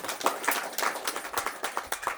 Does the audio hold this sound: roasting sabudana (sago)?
no